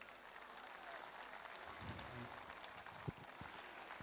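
Quiet, distant applause from an audience at a community festival in Quartu Sant'Elena welcoming a priest, a soft steady patter of clapping with a few louder thumps near the end.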